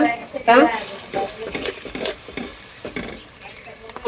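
Onions with ginger paste lightly frying in a pot for white pulao, a close, steady sizzle with spoon scrapes and stirring strokes, a brief louder burst near the start.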